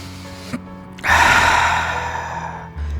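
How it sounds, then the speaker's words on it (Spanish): One long, breathy inhale drawn close to the microphone during a live worship broadcast, a strong airy rush that slowly fades out. "voy a agarrar poquito aire"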